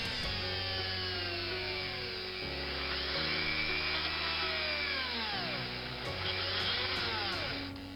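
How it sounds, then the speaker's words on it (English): A power drill bores into the body of a diecast Corgi model car, a sustained high whine with shifting pitch as the bit bites into the metal, close and steady throughout with no talking. "And here I'm drilling the body"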